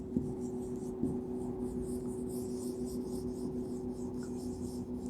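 Steady scratching of writing on a classroom board during a science lesson, a soft continuous scrape with a low hum beneath and no speech.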